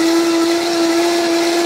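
A countertop blender whirs steadily at high speed, blending a pork shoulder marinade, a loud constant motor whine that cuts off abruptly at the end.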